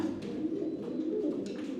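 A pair of sandy-coloured pigeons coo softly in a low, steady murmur, close by and alone, with faint rustling.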